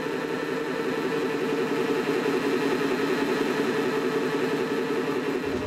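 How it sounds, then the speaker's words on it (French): Diesel car engine running steadily on a roller dynamometer test bench, a loud continuous mid-pitched drone with constant vibration that holds evenly throughout before cutting off at the very end. "c'est vraiment le moteur qui va fixer la vitesse de rotation du rouleau"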